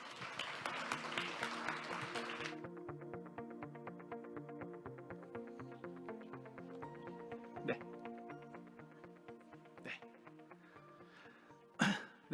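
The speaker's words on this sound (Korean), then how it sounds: "박수로 맞이해 주세요." At a Korean economic forum, an audience welcomes a speaker with a short burst of applause, which fades after a couple of seconds into soft, steady background music with a few coughs.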